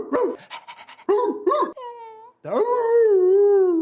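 A director voices the cartoon dog Dog Man, imitating a dog with quick rhythmic panting bursts and then a long, rising and falling whining howl, loud and close.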